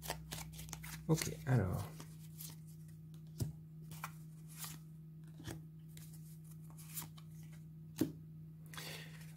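A deck of tarot-style cards shuffled by hand, with a rustling flurry early on and then scattered soft taps and card snaps, close and quiet, while a person speaks briefly.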